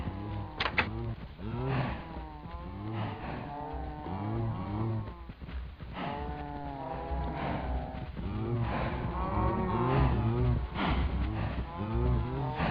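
Minecraft cows lowing repeatedly in a steady series of moos at close range, the calls overlapping and loud throughout, with no talk.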